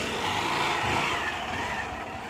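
A motorbike rides along a cement road in rural Madhya Pradesh, its engine giving a steady, loud roar mixed with wind rush throughout.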